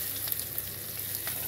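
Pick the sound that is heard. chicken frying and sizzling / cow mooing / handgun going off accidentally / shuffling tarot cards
chicken frying and sizzling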